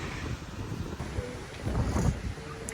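Wind blowing outdoors, a steady rough rumble buffeting the microphone with gusts swelling and easing, fairly loud throughout and no talking.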